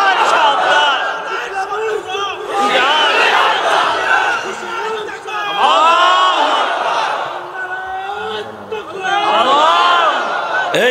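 A large crowd at an Islamic sermon gathering roars the takbir "Allahu Akbar" in loud, sustained waves of massed voices, rising and falling several times across the clip.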